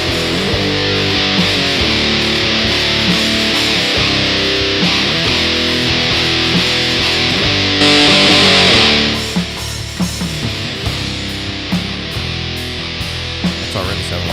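Electric guitar run through a Muramasa amp simulator with distortion, dense and loud throughout, a driven, continuous tone with chord hits and a brief brighter swell in the middle.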